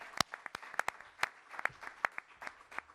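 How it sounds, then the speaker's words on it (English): Sparse, scattered claps from a small audience at a Bronx Week event with the governor, a few distinct sharp hand claps spread irregularly over a few seconds in a quiet room. "Let's give them a strong round of applause."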